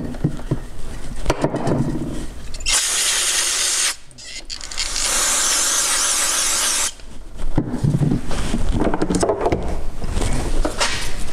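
Compressed air from a blow nozzle cleaning pull starter parts of a Husqvarna 365 Special chainsaw, heard as two loud steady hissing blasts of a few seconds each, separated by a short gap, with workshop handling noises before and after.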